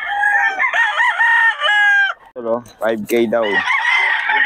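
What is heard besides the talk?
rooster crowing at a gamefowl market, Sweater bloodline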